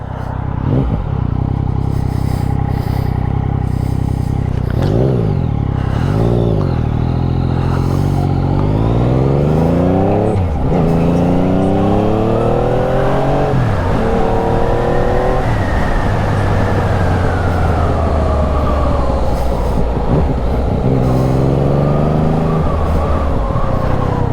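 Yamaha XSR900 triple-cylinder motorcycle ridden on slippery roads, its loud engine repeatedly revving up and shifting through gears close to the rider, with someone talking over the steady roar.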